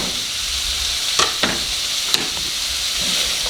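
Radishes fry in hot grease in a pan, a constant loud sizzle and hiss broken by a few sharp clinks and scrapes of stirring.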